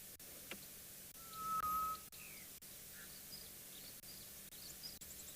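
A single thin whistled bird call, brief and somewhat distant, rises out of steady outdoor hiss with faint clicks, in the South African wild.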